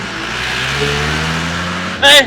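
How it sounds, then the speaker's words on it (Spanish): Cars passing on a road give a steady mid-range engine hum with a brief louder surge near the end, while voices talk over the traffic. "mucho carro pasa por aquí, mi amor"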